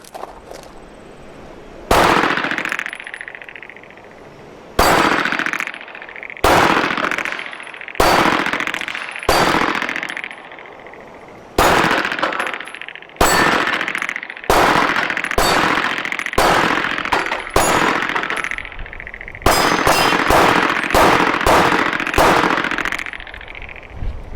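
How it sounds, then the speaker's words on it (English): A PSA Dagger Compact pistol fires 115 grain FMJ rounds at a range. Around twenty loud, sharp shots ring out with echoing decay, spaced irregularly, some in quick strings and others with pauses between them. "These are the very first shots out of the PSA Dagger."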